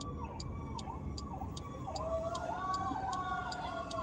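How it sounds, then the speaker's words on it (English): Emergency vehicle sirens wail through a snowy city street in Raleigh, a repeating rising-and-falling tone that grows slightly louder as it approaches, heard from a moving car without talk. "Sirens. I don't know if they're coming this way or not yet."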